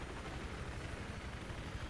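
Battlefield 3 helicopter in flight, a loud continuous rotor roar with a low rhythmic thumping chop, steady and close, with no voices.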